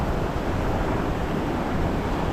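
Heavy surf pounding the rocky shore at South Point, Hawaii, a continuous loud wash of breaking water with wind noise, no voices.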